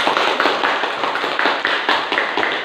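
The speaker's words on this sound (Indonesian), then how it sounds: "Oke, tepuk tangan untuk kelompok 2." Classroom applause for a student group, a short burst of many hands clapping in quick, uneven rhythm, close and fairly loud, with no speech over it.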